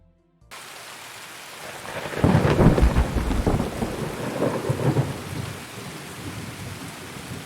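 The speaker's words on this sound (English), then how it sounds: "rain's pissing down" Heavy rain pours in the Escape from Tarkov video game, and a deep, rumbling thunderclap rolls through the steady downpour and slowly fades.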